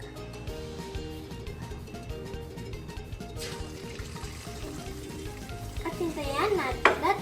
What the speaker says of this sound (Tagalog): Kapag mainit na ang mantika, pwede nang ilagay ang itlog.